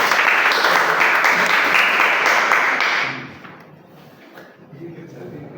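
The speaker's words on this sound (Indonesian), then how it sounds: "Aplaus dulu." An audience at a presentation breaks into loud, dense applause for about three seconds, then the clapping stops abruptly and quieter room sound and a voice follow.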